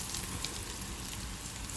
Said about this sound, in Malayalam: ഷാലോ ഫ്രൈ ആണ് ചെയ്യുന്നത്.